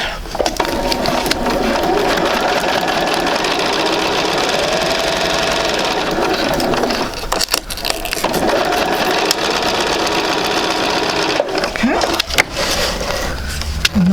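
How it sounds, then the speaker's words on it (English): A sewing machine with an open-toe foot runs a tiny stitch along a marked line on quilt fabric, whirring loudly and continuously with brief pauses and stops, close by. "So now we're going to sew this right on the line."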